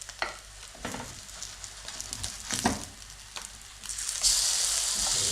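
Corned beef and potato fritters fry in a pan and are flipped, with utensil scrapes and taps over a low sizzle that swells into a loud, steady hiss once they land cooked side up.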